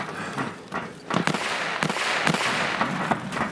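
Sharp grenade blast in the shooter game Escape from Tarkov, followed by several more loud cracking bangs and bursts of gunfire in quick succession, close and punchy.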